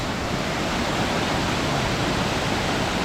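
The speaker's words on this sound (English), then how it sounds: "Here is Amicalola Falls." Amicalola Falls roars in a dense, steady rush of falling water, loud and unbroken, with no other sounds, as rain begins.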